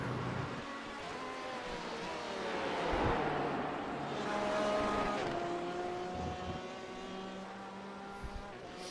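A Corvette C8R race car in a racing video game at Watkins Glen's NASCAR configuration, its engine note sweeping steadily up and down through gears as it laps, loud and continuous with no talk.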